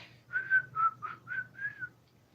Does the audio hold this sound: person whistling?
yes